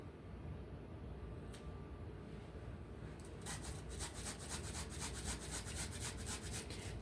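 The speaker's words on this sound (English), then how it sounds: "Just get your grater and just grate it right into the bowl." Fresh ginger rubbed over a grater into a bowl: after a few quiet seconds, a rapid, steady run of close, raspy scraping strokes repeats to the end, with no talking.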